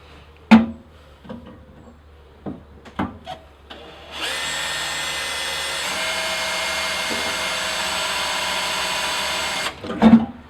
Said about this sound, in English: I'm going to drill 2 pilot holes first with a smaller 4mm drill bit